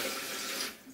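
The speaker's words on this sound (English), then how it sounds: "Turn the water back on." Water rushing from a toilet's supply line as it is turned back on during a leaky-toilet repair with a Korky kit, a brief steady hiss of flow that fades slightly at the end.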